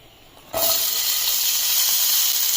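Onions drop into a hot frying pan, setting off a sudden loud, close sizzle that holds as a steady bright hiss, with no talking, while a star fruit and fish curry is being cooked.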